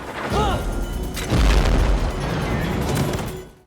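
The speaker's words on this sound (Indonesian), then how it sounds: "Ledakan tersebut membuat spare part mobil melayang kemudian mengenai mobil yang Berlow kendarai hingga mobil itu terguling" A car hits a landmine and explodes in a film scene, giving a sudden deep boom followed by sustained rumbling debris and crashing noise, loud and close, with a brief whooshing effect just before the blast.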